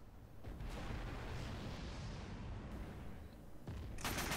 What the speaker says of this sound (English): It's actually my favorite explosion coming off these fuel trucks.